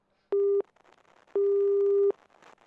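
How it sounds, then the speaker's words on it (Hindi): Two loud, steady phone busy-signal beeps sound after a call cuts out on a news program's phone line, each tone held under a second, separated by a gap with faint background noise. "अमित एक बार फिर जो ना हमारे फ़ोन लाइन से कट हो गए, नेटवर्क का कारण है"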